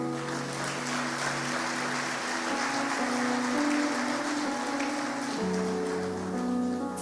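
A church congregation applauds in a dense, steady wash of clapping that lasts throughout, with a sustained organ-like tone underneath.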